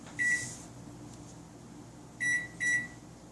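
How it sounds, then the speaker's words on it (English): A microwave oven during caramel-making, heard as a single bright electronic beep followed by two more beeps a couple of seconds later, close by over a faint low hum with no talking. "Close the microwave door."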